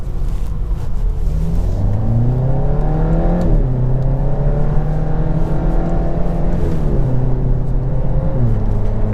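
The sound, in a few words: Volkswagen Golf GTI TCR accelerating on track lap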